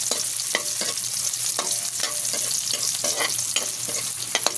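Garlic and onion sizzle and fry in a hot pan for chicken neck adobo, with steady frying hiss and repeated stirring scrapes throughout, no talk.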